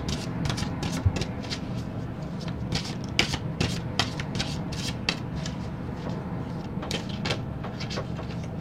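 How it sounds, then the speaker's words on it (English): Tarot cards being shuffled by hand, a series of quick crisp riffles and slides repeating in uneven bursts, close and fairly quiet. "let's go ahead and shuffle"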